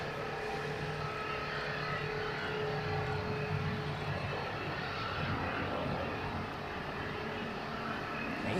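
An Airbus A320neo arriving from Rome Fiumicino passes at Zurich Airport, a steady, loud jet-engine roar with a faint whine, continuous for about nine seconds with no talk.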